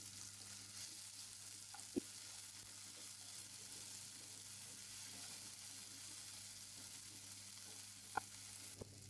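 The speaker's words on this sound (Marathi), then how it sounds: "तर आता मी ही अद्रक लसण आणि खोबरं घालून केलेले पेस्ट मी ते पण परतून घेते आधी." Ginger, garlic and coconut paste frying in a pan for a drumstick curry, a quiet steady sizzle with a few faint stirring clinks, no talking.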